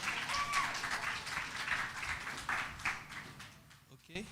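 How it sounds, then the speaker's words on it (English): Scattered applause from a small crowd at a business and career expo fills the room, moderately loud, with a voice speaking over it before the clapping fades out. "More round of applause for him,"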